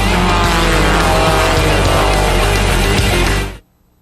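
Race cars, including Porsches, roar at full throttle during a 2002 Grand Am Cup race in California, a loud sustained engine blare filling the clip before cutting off abruptly near the end.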